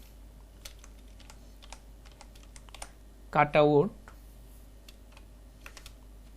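Computer keyboard typing while a Fiverr gig description is entered: steady, light key clicks running through the whole stretch, with a short spoken phrase in the middle.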